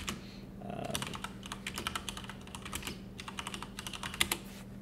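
Fingers type on a computer keyboard in quick, uneven bursts of light clicks with short pauses, close and fairly quiet, with no talk.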